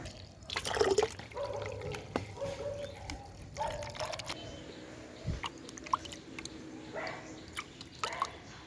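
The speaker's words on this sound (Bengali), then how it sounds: "এখন দিয়ে দেবো একটুখানি জল" A little water is sprinkled onto fenugreek seeds sown in a pot, making soft, close splashes and scattered drips, with a brief gush near the start and light patters afterward.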